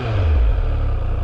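A 2021 Triumph Speed Triple 1200 RS motorcycle idles with a steady, close, low throbbing rumble that stays even throughout, with no one talking.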